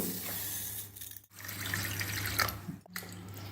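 Basmati rice washed in water, with continuous swishing and running-water sounds broken by two brief pauses, moderately close, no talking.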